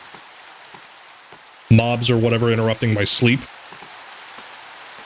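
Rain falls steadily in the video game Minecraft, a constant soft hiss of drops on surfaces heard throughout, with someone talking over it midway.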